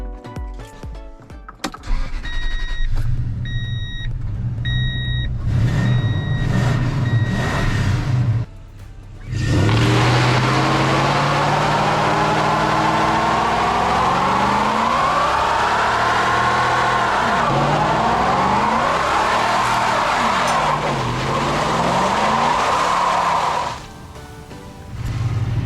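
A truck with a freshly welded exhaust after catalytic converter theft cranks, then fires and roars loudly close by, the engine revving up and down in swelling waves before dropping back, with some clicks and chimes before the start.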